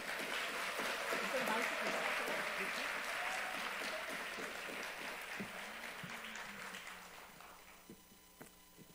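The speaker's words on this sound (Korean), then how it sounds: "여러분 격려와 또 큰 환영의 박수로 맞이해 주시기 바랍니다." A church congregation gives welcoming applause during a Wednesday worship service, a dense burst of clapping close and full at first, gradually thinning and fading out over several seconds.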